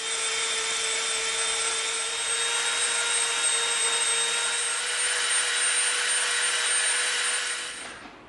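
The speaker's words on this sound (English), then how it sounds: "we are going to bevel this from the bottom corner to this line right here so we have a nice bevel around the whole thing" A steady, loud whine of a rotary tool beveling the bottom edge of an EVA foam piece, running continuously for about eight seconds with a fixed high tone before spinning down at the end, no talking.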